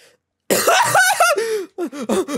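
A burst of harsh, close coughs, one long rasping fit followed by several shorter coughs in quick succession.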